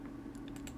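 Typing on a computer keyboard while entering a label in mapping software: a few quick, light key clicks near the microphone, with no voices.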